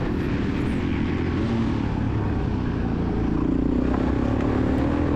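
Suzuki DRZ400E dirt bike engine pulling steadily in third gear during a cross-country race at Whiskey River, a constant close, loud drone with a slight rise in pitch toward the end.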